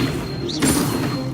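Incendio fire spell cast in the Hogwarts Legacy video game, a brief whooshing burst with a soft thud about midway through the short moment, heard over a steady game background.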